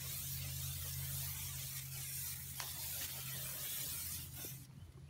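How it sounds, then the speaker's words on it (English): Silicone oil release agent sprayed onto a concrete cattle guard form, a steady faint hissing spray with a low engine-like hum beneath, continuous for several seconds before cutting off near the end. "I would use some silicone oil. Some people use diesel, whatever you got, and then I would spray it real good."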